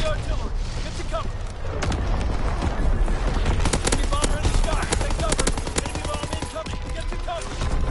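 Gunfire in Call of Duty WW2 during an artillery and air attack, heard as rapid machine-gun bursts and scattered shots, loud and continuous, under a voice that talks throughout.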